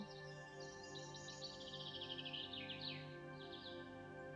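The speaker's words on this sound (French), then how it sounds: "Peut-être le chant d'un oiseau," A songbird sings in quick chirping phrases at moderate distance over a calm outdoor scene with slowly flowing water, its trills rising and falling for several seconds over a steady faint background hum.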